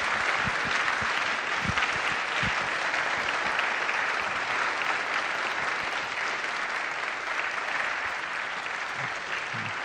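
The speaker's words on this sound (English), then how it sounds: "give them a round of applause" Sustained audience applause rolls through a lecture recital hall after a Bach cantata performance, thick continuous clapping that holds steady throughout and eases slightly toward the end.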